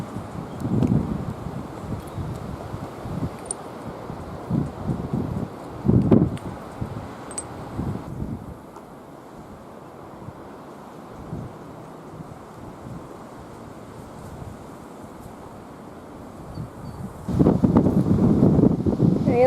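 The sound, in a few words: wind during a windstorm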